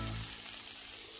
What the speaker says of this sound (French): Je vais maintenant rajouter le reste des légumes, c'est-à-dire l'oignon et le poivron